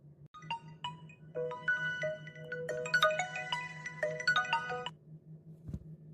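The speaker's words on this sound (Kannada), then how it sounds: "ಯಾರ್ದ ಫೋನ್ ಬರತ್ತಲ್ಲ?" A mobile phone ringtone for an incoming call plays a bright electronic melody of repeated rising notes over a low steady hum, fairly quiet and alone.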